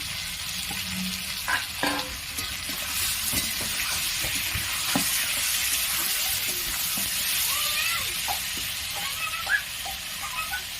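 Steady, loud sizzling of potatoes frying in a pan, with occasional scrapes of a spatula stirring through them.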